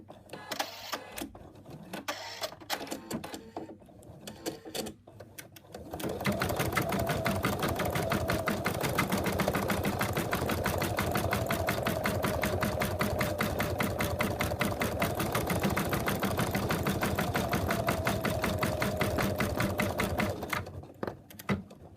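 An embroidery machine sews the eye highlights of a frog design, starting after a few seconds of scattered clicks and then running in a loud, fast, even stitching rhythm until it slows near the end.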